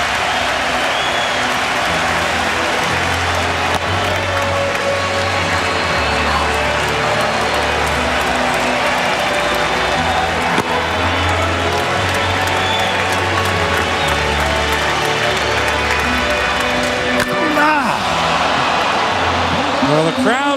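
A packed stadium crowd at the 2008 MLB Home Run Derby roars and cheers continuously, a dense wall of applause and shouting from fans on their feet, with a commentator's voice faintly under it.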